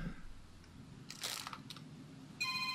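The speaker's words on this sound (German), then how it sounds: "Mein Telefon klingelt." A telephone starts ringing near the end, a steady electronic tone after a quiet room with a couple of brief clicks and rustles before it.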